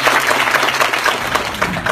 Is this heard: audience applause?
yes